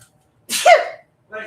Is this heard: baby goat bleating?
no